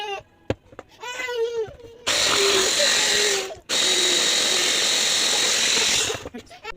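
A food processor grinds roasted peanuts into peanut butter with a loud, steady whirring motor that runs for about a second and a half, cuts out briefly, then resumes. Someone speaks briefly just before the motor starts.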